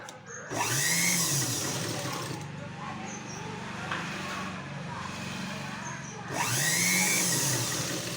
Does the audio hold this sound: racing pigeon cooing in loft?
no